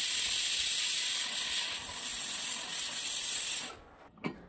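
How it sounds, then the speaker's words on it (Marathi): A pressure cooker cooking rajma (kidney beans) lets out a loud, sustained hissing whistle of escaping steam that runs steadily for nearly four seconds, then cuts off abruptly, leaving a faint clunk and near quiet. "कुकरचं झाकण लावून एक साधारण आपल्याला 3 शिट्ट्या ह्याच्या काढून घ्यायच्या आहेत"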